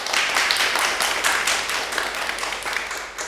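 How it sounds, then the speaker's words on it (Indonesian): Children in a classroom clap their hands together, a steady, fairly loud burst of many overlapping claps with no voices over it. "Beri tepuk tangan anak-anak."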